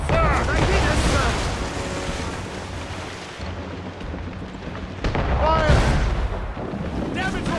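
Ship cannons boom in naval combat in Assassin's Creed Rogue, heavy blasts over rolling sea and battle noise, with crew voices shouting between volleys.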